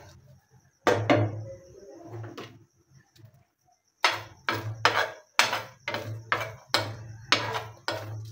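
A spatula knocks and scrapes against a frying pan as five or six chilies are stirred and turned. A few scattered taps come first, then a steady run of sharp, evenly spaced clacks close by.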